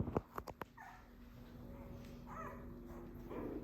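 A litter of newborn puppies gives faint, high whimpers and small yips, with a few sharp knocks at the start and a low steady hum underneath.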